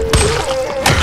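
Two heavy melee thuds a moment apart land on a zombie in Dying Light, close and punchy, with a faint tonal game hum between the hits.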